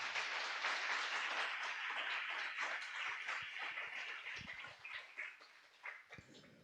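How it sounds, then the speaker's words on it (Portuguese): A church congregation claps and cheers during a worship service, a dense wash of applause that thins into scattered claps near the end. "Diga glórias a Deus e aplauda o Senhor Jesus"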